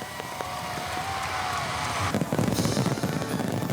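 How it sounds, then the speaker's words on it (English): Firework shells burst above a large display of thousands of starbursts, precisely timed. A dense, continuous wash of crackle and hiss builds into sharper, rapid pops and thuds in the final second and a half. "his speed is exactly matched by the shells bursting above"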